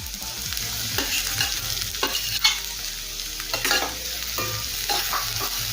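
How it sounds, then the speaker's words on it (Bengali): Capsicum and carrot fry in a pan for chilli paneer noodles, with a steady close sizzle and repeated scraping stirs of a spatula at irregular intervals. "আবার প্রায় 2 থেকে 3 মিনিট সময় নিয়ে ক্যাপসিকাম গাজরের সাথে একটু ভেজে নেব।"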